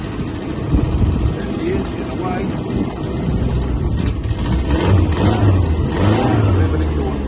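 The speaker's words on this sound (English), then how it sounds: "A bit of an exhaust blow." A 1968 Vanden Plas 1300 Princess engine runs steadily with an exhaust blow, a low rumbling drone throughout as people talk nearby over it.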